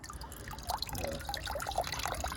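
Water drips and trickles as it drains from the air filter housing of a Land Rover Freelander 2 during a drain test, a steady wet patter of small drops running on close by with no talking.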